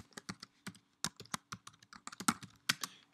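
Keys clatter on a computer keyboard while a command is typed on a Mac laptop, about twenty quick clicks in irregular bursts, close and fairly quiet with no talking.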